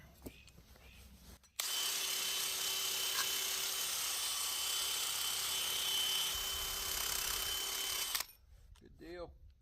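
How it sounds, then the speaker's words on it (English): A small wire wheel on a power tool cleaning a buried well casing, a loud steady high whine and scrub lasting about seven seconds before it stops, with faint voices before and after. "Now I'm going to go ahead and use the little wire wheel here. That'll help clean the casing off."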